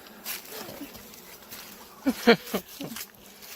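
Honeybees buzz around a hive as comb is removed, a faint insect drone with brief louder swells close by, and a few soft voiced sounds mixed in.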